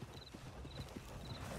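A horse's hooves clip-clop at a steady walking pace in Red Dead Redemption 2, soft and low in the mix under a faint constant background hiss.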